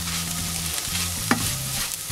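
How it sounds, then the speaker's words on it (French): Food being stirred in a pan over lowered heat while preparing a Christmas meal, with a soft continuous sizzle, a steady low hum and a single brief scrape or clink partway through. "On touille le tout."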